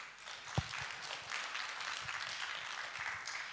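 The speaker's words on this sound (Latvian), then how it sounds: "Aplaus turpinās." Audience applause at a Latvian rural communities parliament session, a steady wash of clapping from a crowd that holds throughout with no talk over it.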